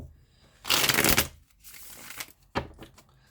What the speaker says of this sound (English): I'm just going to do some extra shuffles